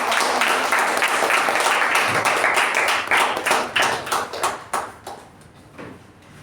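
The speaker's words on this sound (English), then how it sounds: "please, with a huge round of applause" A small audience claps at a Toastmasters meeting for the day's best speaker. Dense, lively applause thins out after a few seconds into scattered individual claps that fade to quiet.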